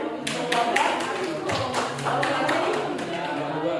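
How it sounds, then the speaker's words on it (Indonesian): A high school class claps after a group presentation, a burst of hand claps close by that holds steady for a few seconds, with voices mixed in. "Ya, tepuk tangan."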